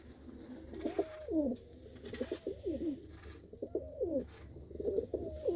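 Soft, repeated cooing of pigeons close by, several rolling coos in a loose rhythm over a low background hum.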